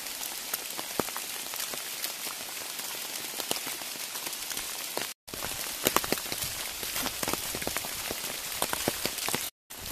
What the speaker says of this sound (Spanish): La lluvia arrecia, pero no le quita nada de encanto a esta senda